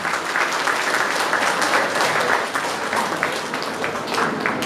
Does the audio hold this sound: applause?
yes